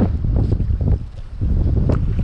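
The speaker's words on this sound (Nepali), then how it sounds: "डेन्जर हावा रहेछ फास्ट" Strong gusty wind buffets the microphone on a kayak out on Ballina river, a loud low rumbling roar that swells and eases in waves with no voices over it.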